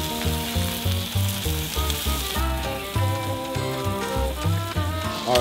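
BK Tucson wieners sear and sizzle in a pan at a cold winter fishing camp, a continuous crackling fry that runs steadily under rhythmic background music.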